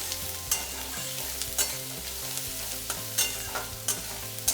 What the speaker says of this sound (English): Now we'll add the green chilies and saute them.